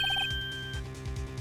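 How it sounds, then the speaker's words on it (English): Phone ringtone in a courtroom-mystery video game: a quick series of short electronic rings repeats three or four times at the start and then stops, leaving a low game music bed with rhythmic bass pulses. "I heard a phone ring just now."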